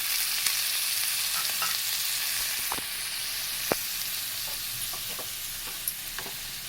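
Half a cup of curd frying in a pan for paneer ghee roast, a steady bright hiss of sizzling with scattered pops and light scraping stirs, close and continuous with no voices.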